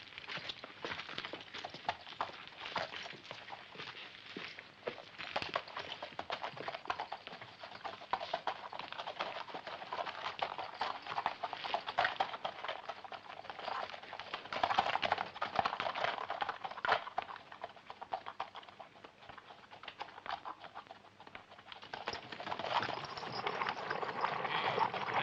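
Horses' hooves clip-clop steadily on a road while pulling a stagecoach in a 1964 western film, a dense, continuous clatter of hoofbeats and rolling rumble lasting throughout, with no voices.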